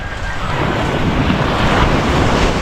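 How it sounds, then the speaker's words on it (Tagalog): Calm sea waves washing steadily near the shore, mixed with rough wind buffeting the microphone and no speech. "Ayun, ang ating dagat ay kalmado, hindi katulad kahapon na malakas."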